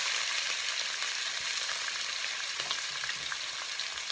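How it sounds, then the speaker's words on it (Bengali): Sliced onions hit hot ghee in a pan for a chicken dish and fry with a dense, continuous hissing sizzle, with light stirring noises underneath. "আমি ঘি দিলাম চিকেন রান্নার লাগি। পেঁয়াজ দিলাম পুরা"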